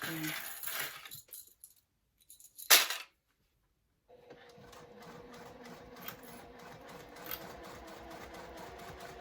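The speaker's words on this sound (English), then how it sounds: "Don't sew past your mark." Sewing machine stitching fabric while making a Lola garment: a steady, fast mechanical rattle runs through the second half, after earlier brief clicks, a sharp clack and a pause of silence; no talking.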